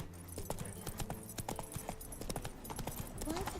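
Roach, a horse in The Witcher 3 video game, clip-clops steadily through a town, hoofbeats close and continuous over ambient game sounds.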